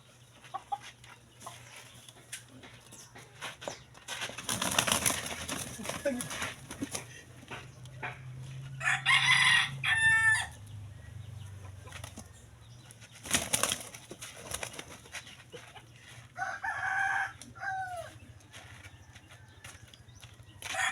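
A derby-winning gamecock of barako stock is heard alongside other fowl, with clucking, a few bursts of wing flapping and crowing calls spread across the recording, at moderate distance.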